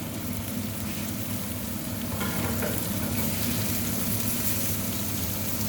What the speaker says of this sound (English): I'm going to give that a minute or two just to get all that lamb nicely browned up